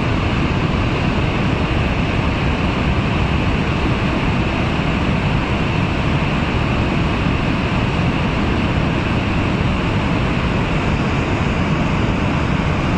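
Floodwater surges after the Malana dam burst, a loud, unbroken roar of rushing water filling the whole scene with no pauses.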